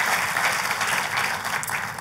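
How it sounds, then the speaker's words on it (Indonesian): A church congregation breaks into steady, lively applause, a continuous mass of clapping filling the hall at moderate loudness, with no speech over it. "Ayo buat Tuhan kita kasih tepuk tangan yang paling meriah."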